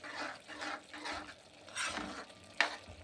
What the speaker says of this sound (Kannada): ನೋಡಿ, ಚೆನ್ನಾಗಿ ಕುದೀತಿದೆ.